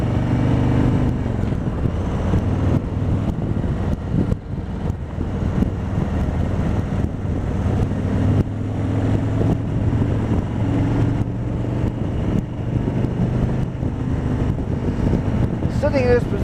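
A 2020 Harley-Davidson Road Glide Special engine runs at a steady low rumble throughout, with a constant deep idle and occasional small surges, while someone talks over it.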